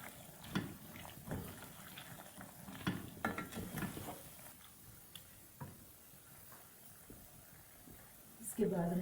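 Peas stirred into a pan of mixed vegetables for sabzi, with soft scraping and tapping of the spoon over a faint sizzle, quiet and intermittent, a voice heard now and then.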